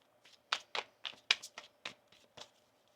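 A deck of tarot cards being shuffled by hand, heard as a quiet, close series of about ten crisp tapping riffles in an uneven rhythm.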